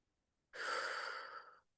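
A single long, close breath drawn slowly and steadily during a calm guided meditation, alone against near silence and fading out gently at the end.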